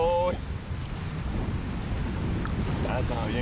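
Gusty wind buffets the microphone on a boat during a bear-hunting trip at a Mont Valin outfitter, a steady broadband rumble throughout with brief voice fragments at the start and end.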